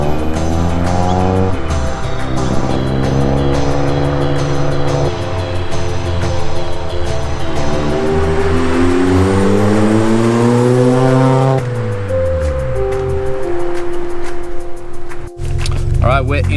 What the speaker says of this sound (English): I'm driving my car.